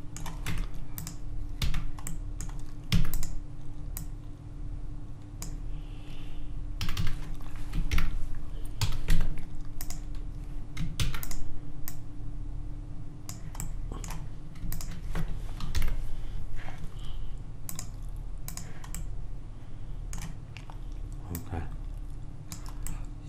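Computer keyboard being typed on and slapped at a desk during 3D modeling work, with bursts of quick, uneven clicks over a steady low hum, moderately close.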